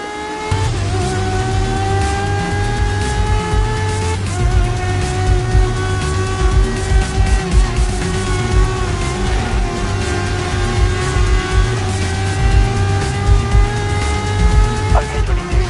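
Race cars screaming around a track in Grid Legends: a loud, continuous high-revving engine with repeated upshifts and the drone of other cars around it, with no talking.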